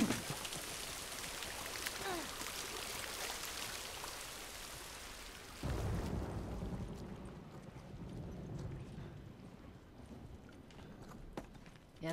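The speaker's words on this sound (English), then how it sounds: "at least we're out of the rain" Rain falls in The Last of Us, a dense steady hiss that swells with a low rumble midway, then drops to a softer, more muffled patter as if heard from under shelter.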